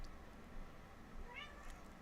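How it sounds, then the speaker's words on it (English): A house cat gives one faint, short meow partway through, heard at a distance beneath a steady low background hum in an indoor room. "Hey, it's a Hattie cat"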